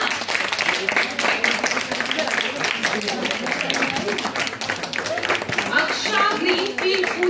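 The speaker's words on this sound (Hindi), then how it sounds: "तालियों से बेटा।" Applause at an inclusive poetry competition for school students follows a participant's introduction, with dense clapping from a hall audience filling the stretch alongside some background voices.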